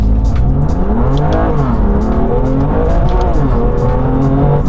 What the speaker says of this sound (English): how much quicker this Clubsport M2 is to 60 mph than an unmodified M2